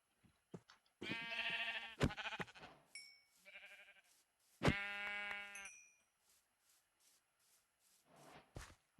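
Blocky sheep in a modded Minecraft survival game bleat several times, with harmonic calls spaced across the stretch, some long and some short, mixed with small game clicks and dings, fairly close and alone without talk.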